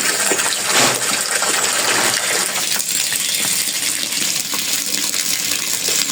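Water is poured steadily over paddy rice to soak it before boiling, making a loud, continuous gushing and splashing close by for several seconds without any talking.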